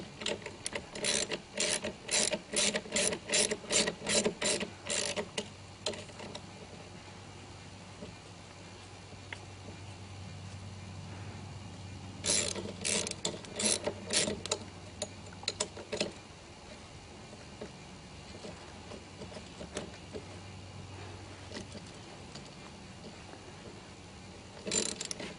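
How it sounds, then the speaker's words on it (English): A ratchet wrench backs a bolt out of the end of a handrail on a playground slide, with bursts of quick, close clicking, a pause, and another run of clicks, separated by quiet rubbing and faint handling. "Then just change your wrench and back that bolt"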